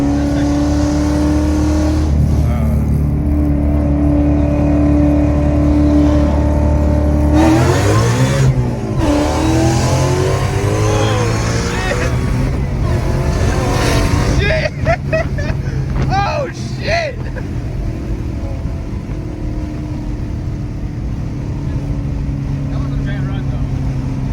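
A Ford Mustang of over 1000 hp roars and revs hard as it accelerates through the gears, loud and close, with people talking over the noise.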